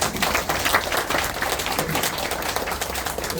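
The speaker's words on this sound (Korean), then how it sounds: "큰 박수 부탁드리겠습니다." Steady audience applause in a university hall as a presenter is welcomed to a project briefing, dense continuous clapping from a crowd close by, without speech.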